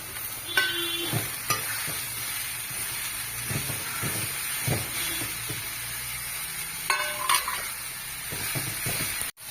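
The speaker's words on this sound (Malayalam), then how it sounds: "അതിലേക്ക് അര സ്പൂൺ മുളക് പൊടി ഇട്ട് മൂപ്പിക്കുക അതിലേക്ക് പീച്ചിങ്ങ ഇടുക" Ridge gourd frying in a hot pan with chilli powder, a steady sizzle and hiss throughout with repeated scraping stirs of a spoon against the pan, close and fairly loud, no voices.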